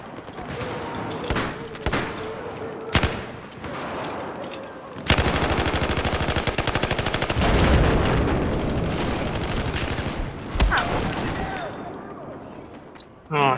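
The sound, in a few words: LMG machine gun firing in video game Battlefield 4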